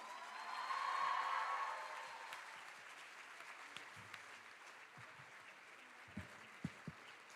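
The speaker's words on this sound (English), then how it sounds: "Let's give them a huge round of applause." Audience applause at a school graduation ceremony, a loud burst of clapping in the first two seconds that fades to a thin patter and scattered claps.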